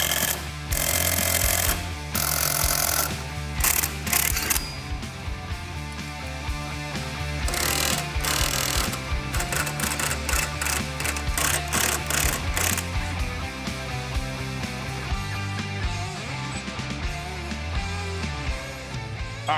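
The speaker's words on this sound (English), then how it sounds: "let's bust out this lower ball joint. We got our tool set on here to push down" A ball joint press tool forces the lower ball joint out of a car's suspension, making a loud, rapid, jackhammer-like hammering in close bursts with metallic clatter and short pauses between runs.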